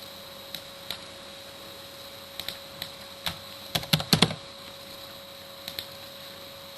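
Sparse keystrokes tap on a computer keyboard, single clicks spread out with a quick cluster in the middle, over a steady faint electrical hum.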